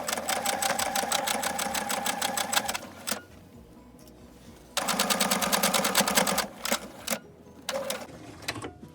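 A sewing machine stitches stretch fabric over pins in two fast, steady runs of rapid needle clatter, broken by a short pause and some clicks between them, close and loud.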